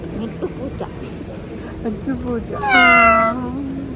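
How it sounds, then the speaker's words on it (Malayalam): A cat meows once, loud and close, a drawn-out call rising then holding, after a few seconds of quieter background murmur and soft sounds, during a family trip in Azerbaijan. "പൂച്ച"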